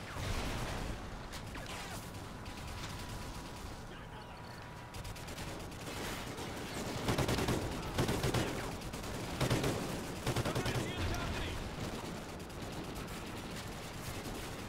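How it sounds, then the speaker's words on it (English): Gunfire in the Call of Duty Ghosts video game on PS4: sustained bursts of machine gun fire and fusillades with whooshes, loud and dense throughout. "Gotta get this machine gun down."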